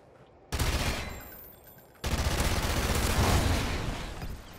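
Gunfire rips out in Call of Duty Ghosts multiplayer: a sudden close burst of rapid automatic shots, a short lull, then a second longer sustained volley that stays loud before tapering slightly, with no talk.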